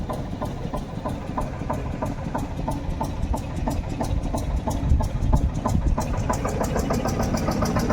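A bhotbhoti engine vehicle and a shallow water-pump engine idling in hilly country, a loud close chugging diesel knock with a fast, even rhythm throughout.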